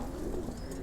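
Brief soft cooing comes from pigeons kept in a loft for flying, a low rolling call close by with faint background hum.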